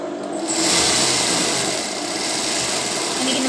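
A sewing machine stitches a bra, its motor running in a steady, close, continuous whir for the whole stretch with no pauses.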